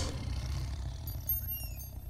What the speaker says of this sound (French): Le lion rugit.